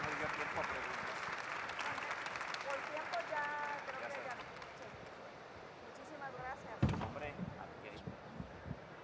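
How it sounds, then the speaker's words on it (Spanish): Applause for the panelists at a business panel at Expo PyME, fairly faint and distant clapping from an audience, with a voice talking over it and a few louder knocks near the end. "un aplauso para los panelistas"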